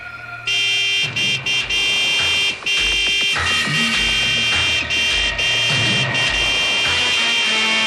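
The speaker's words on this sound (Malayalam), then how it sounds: "നീ ഹോൺ അടിച്ച് വണ്ടി വിട്" A loud, blaring car horn sounds in long and short blasts, almost continuously, with engine and traffic noise underneath.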